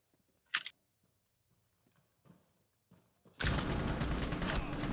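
Gunfire in Rainbow Six Siege: after a few faint clicks and movement sounds, a loud sustained burst of rapid shots fills the last second and a half, close and dense.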